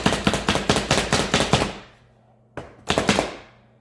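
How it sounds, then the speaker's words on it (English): A knife chops green onion on a cutting board in quick, sharp, evenly spaced strokes, about eight in a burst, then a brief pause and another short run of close, loud chops. "I'm going to cut off what I need. Chop that."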